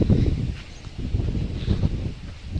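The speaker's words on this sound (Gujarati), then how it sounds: "બહુ જ પવન" Strong wind from an approaching storm buffets the microphone in a steady low roar with gusty surges, and faint rustling runs through it.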